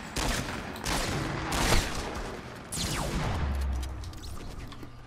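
Rapid bursts of gunfire in a Fortnite battle royale match, several loud volleys separated by short gaps, close and sharp against game ambience.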